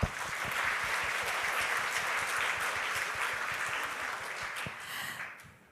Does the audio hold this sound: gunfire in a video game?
no